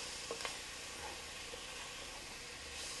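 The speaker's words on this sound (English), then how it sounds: "you can see the onions are browning nicely" Onions browning in a pot for Greek beef stew, a quiet steady sizzle and hiss with a few soft stirring clicks near the start.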